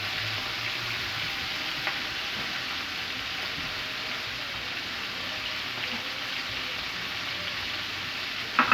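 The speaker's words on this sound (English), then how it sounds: "So my oxtail is browning very well." Oxtail browns in a hot pan with a steady, dense sizzle and crackle, like rain on a surface, close and constant throughout, with a brief clatter right at the end.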